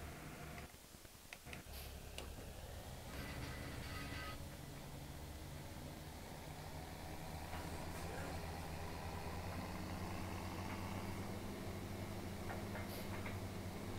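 Grain cart auger unfolding and running in Farming Simulator 17, a steady tractor engine idle with light mechanical ticking and a hum that settles into a continuous drone throughout, no talking.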